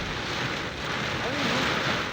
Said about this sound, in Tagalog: malakas na ulan at hangin ang daramdaman ng mga commuter sa Quezon City